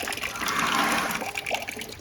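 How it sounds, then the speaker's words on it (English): Water poured into a 2008 Yamaha YZ450F radiator during a coolant flush: a close, steady gushing and splashing that runs without a break for about two seconds, with no talking. "put this last liter of water in there and it should be all right"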